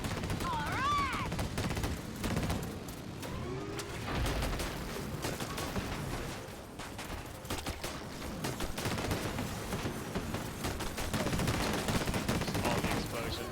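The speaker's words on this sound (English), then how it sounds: "All the explosions. Wow." Near-constant gunfire and explosions in the shooter Disintegration, with rapid bursts and booming blasts layered over a busy battle soundscape. Game voices and a player talk intermittently through it.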